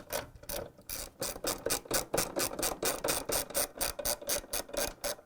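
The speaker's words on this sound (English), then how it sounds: "And now we're going to put 3 bolts to secure the transmission. 1/2-inch socket wrench." A half-inch socket wrench ratchets rapidly while tightening bolts that secure the transmission of a Whirlpool/KitchenAid/Maytag washer, producing a close, steady series of quick clicking strokes with no talk.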